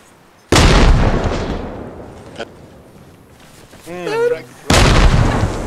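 A grenade goes off in the military shooter Arma Reforger, a sharp loud blast that rings out and decays, followed by a second close burst a few seconds later, with a brief chirping sound between them.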